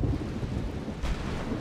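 Rainfall in the Skyrim video game, a steady wash of rain with a low rumbling undertone like distant thunder, fairly quiet and continuous with no talk.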